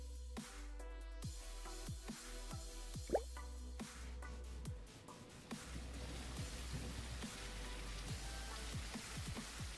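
Rain in an Unreal Engine 5 open-world gladiator game, sparse drips and plops falling irregularly over a low steady hum, quiet and close, with no voices.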